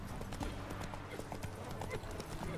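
Steady clip-clop of the horse Roach's hooves in The Witcher 3, trotting at a brisk even rhythm up close, with faint game ambience beneath.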